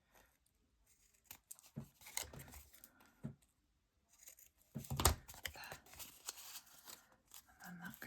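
Craft paper being cut down to size for a handmade tag, with crisp snipping and tearing bursts scattered through the clip, loudest near the middle, close and fairly quiet.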